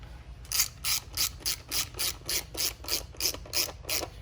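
A hand ratchet snugging casing bolts on a Venom x22GT 250cc motorcycle clicks in a steady run of about a dozen evenly spaced strokes, close and clear over a low background hum.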